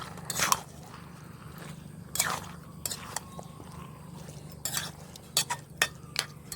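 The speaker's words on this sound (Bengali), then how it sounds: "এবার নাড়াইয়ে মাংসে বাটনাগুলো লাগিয়ে ঢাকা দেব।" A spoon stirs goose meat coated in spice paste inside a pot, producing intermittent scraping clanks and thick, wet shuffling bursts over a quiet low background.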